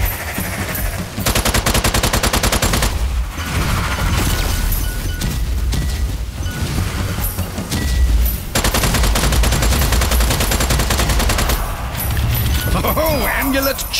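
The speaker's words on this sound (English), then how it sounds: "shooting." Loud, continuous automatic gunfire rattles through a Strange Brigade battle, with dense bursts of shots broken by short gaps and occasional booms, and a voice talks over the shooting.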